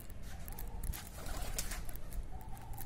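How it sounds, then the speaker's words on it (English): A pigeon sitting at the City Palace gives soft, low cooing against a steady, fairly loud ambient background, with no talking. "Look, pigeon is sitting there."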